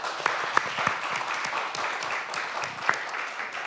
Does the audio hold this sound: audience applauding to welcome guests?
yes